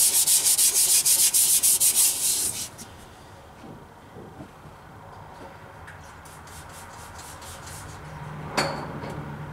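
An antique engine crankcase is scrubbed with a Scotch-Brite pad and WD-40, giving loud, rapid rhythmic rasping strokes for a few seconds, then quieter intermittent rubbing and a single sharp knock.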